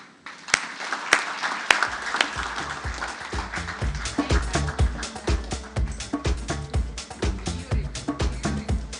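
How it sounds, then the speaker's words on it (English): Applause with clearly separated hand claps at an International Women's Day gender equality event, starting with a few isolated sharp claps before a group joins in steady clapping, close and moderately loud. "Another hand of applause to Ms. Marsha Makata Yambi"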